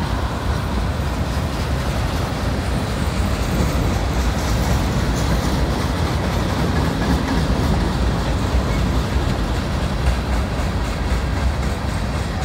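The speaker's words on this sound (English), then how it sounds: "Oh, the short train." A short freight train rolling past on an Indiana & Ohio Railway spur, a loud, close, steady rumble of wheels and cars with clickety-clack for the whole stretch, no talking.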